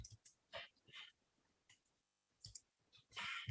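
Keyboard keys pressed together for the Ctrl+X+N shortcut while working in a Linux text editor: a handful of faint, quiet clicks spread out with short pauses between them.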